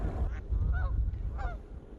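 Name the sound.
geese honking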